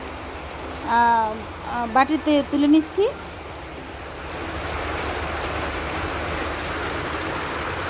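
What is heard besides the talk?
heavy rain outside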